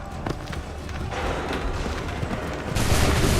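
A volley of muskets is fired in Assassin's Creed 3, a dense crackle of overlapping gunshots that swells into a louder, fuller burst of fire partway through.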